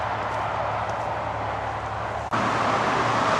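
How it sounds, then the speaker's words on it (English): Road traffic on the A1 heard from a nearby footpath through farmland, a steady broadband roar of continuous vehicles, fairly loud, with a brief dip midway before the wash resumes. "That's all the traffic you can hear in the background."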